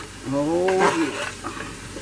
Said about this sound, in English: And back to frying.